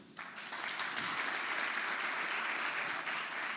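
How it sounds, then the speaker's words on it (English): A large audience at a career expo launch claps for itself, steady dense applause that sounds fairly soft and distant and holds evenly throughout. "Clap for yourselves."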